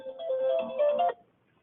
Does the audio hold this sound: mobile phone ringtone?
yes